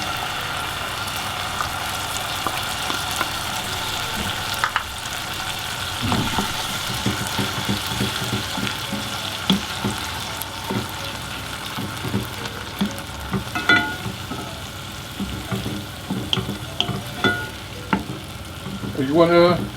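Grated tomato fries in a pan with shrimp for a Greek shrimp dish, giving a continuous close sizzle with bursts of bubbling and spatula stirring that grow busier toward the end.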